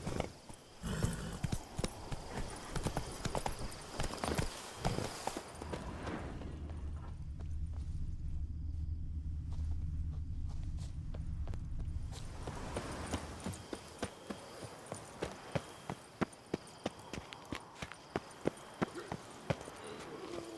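Roach the horse gallops in The Witcher, rhythmic hoofbeats up close with a muffled low rumble in the middle stretch, then the hooves return with sharp clicks, under faint speech.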